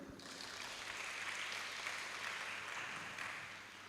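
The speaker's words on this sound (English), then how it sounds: "everyone, give applause to group number 4." An audience at a 2023 student statistics forum claps for several seconds, a dense, even patter that swells and then tapers off, with no talking over it.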